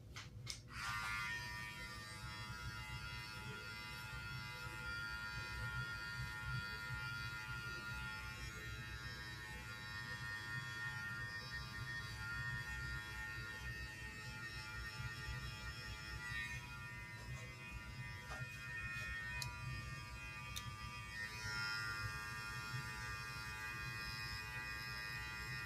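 Electric hair clippers running steadily through a self-cut high taper haircut, a close continuous buzz with a low hum that holds at an even level throughout, with no talking.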